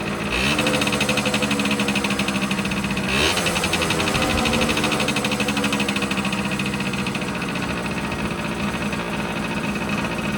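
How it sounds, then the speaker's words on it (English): A Yamaha YSR50 50cc two-stroke motorcycle engine idles steadily with a rapid, buzzing putter, loud and close, running without pause throughout. "It's idling now."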